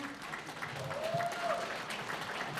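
Audience applause at a Classeum business presentation comes through fairly faint and steady for a couple of seconds, with a voice briefly audible over it.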